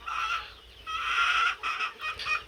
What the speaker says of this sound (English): There's a little rooster we kept back.